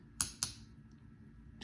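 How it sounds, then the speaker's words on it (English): Two quick, sharp clicks of a fingernail tapping a hard, not-yet-dry acrylic nail, close and crisp, followed by quiet. "you want to tap the nail to see if you can hear the tapping sound"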